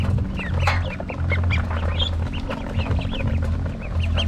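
A flock of Peking ducks at a farm pen gives a busy, overlapping chorus of close quacks and calls, continuous over a low background hum, with no talk.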